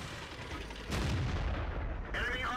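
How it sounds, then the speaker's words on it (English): Tank cannon fire in World of Tanks, a single heavy blast a second in followed by a rumbling decay and a second shot with a metallic ringing near the end, loud and close with narration over it. "He fires at the Löwe twice"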